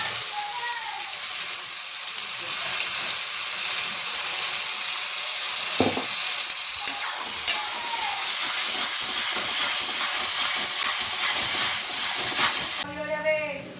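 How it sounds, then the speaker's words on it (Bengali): Onion, tomato and ground spices being sautéed with ginger-garlic-chilli paste give a steady close hiss and sizzle throughout, with a few soft stirring knocks and a brief scrape near the end. "এখানে মশলা বসিয়ে দিয়েছি কষাতে পেঁয়াজ টমেটো আর গুঁড়ো মশলা মোটামুটি কষানো হয়ে গেছে"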